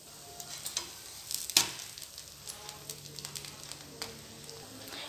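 Soft sizzling of an onion dosa with green chillies roasting on its second side on a hot griddle, faint crackles with scattered light scraping taps of a spatula.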